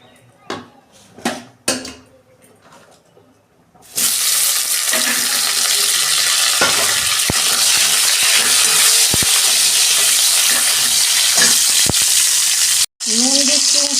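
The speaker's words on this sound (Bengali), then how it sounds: "তেল দিচ্ছি কড়াই, উচ্ছেটা ভাজবো।" Bitter gourd sizzles loudly in hot oil in a wok, a steady broadband frying hiss with occasional stirring clicks, preceded by a quieter stretch of kitchen clatter and speech-like sounds.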